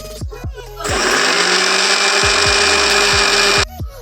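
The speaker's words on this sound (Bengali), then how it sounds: "তারপরে এটা হচ্ছে বন্ধ করে এখন পেস্ট করে নেব মিক্সারে।" A kitchen mixer grinder whirs loudly and steadily for about three seconds, blending sugar and hot water into a paste, with short clicks and thumps as it starts and stops.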